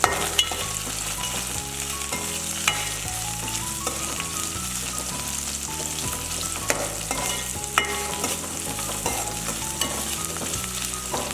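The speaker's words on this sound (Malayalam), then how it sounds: "ഒരു 2-3 പച്ചമുളക് ഇട്ട് കൊടുക്കാം. അതും ഒന്ന് വഴറ്റിയെടുക്കാം." Two or three green chillies sautéed in a pan for a spicy, sour moru curry without coconut, a steady close sizzle under continuous stirring, with frequent scrapes and light clinks throughout.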